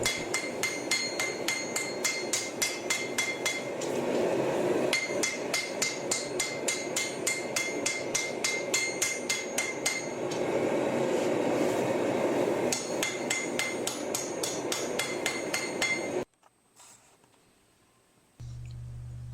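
A forged katana tang, not differentially hardened, is hammered by hand to curve it: steady rapid metal-on-metal blows ring out close and loud in long unbroken runs, then stop abruptly, leaving faint workshop sounds.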